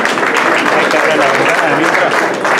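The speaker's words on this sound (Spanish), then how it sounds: "Recibámoslo con fuerte aplauso." Strong applause fills a yeshiva gathering in Mexico City's Jewish community, thick continuous clapping from a crowd close by, steady and loud for the whole short stretch.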